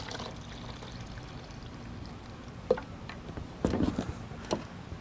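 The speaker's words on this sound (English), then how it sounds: "Let's pour out some Air-8 goodness." Air-8 liquid lawn treatment pours from a jug into a refillable hose-end sprayer, a faint trickling splash that swells near the end over a quiet outdoor background, with no talking.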